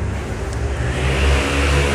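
A 1990s car engine, freshly cleaned of rust, runs with a steady mid-pitched hum that swells slightly toward the end, close and continuous, with no talking.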